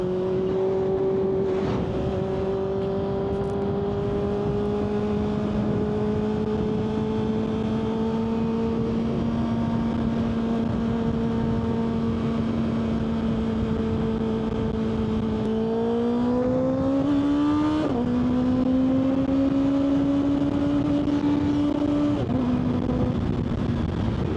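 A 600cc motorcycle engine droning steadily while riding on a Sunday afternoon cruise, its pitch holding, then dipping and rising through gear changes, close and loud with wind noise and no talk.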